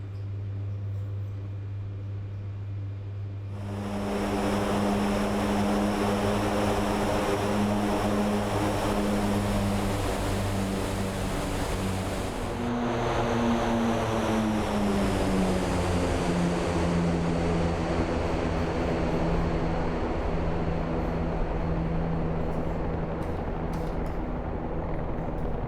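A heavy cargo plane carrying a huge bomb takes off from runway 14 in the DCS flight simulator: quiet at first, then propeller engines surge to a loud, steady droning roar that shifts in pitch as it climbs away.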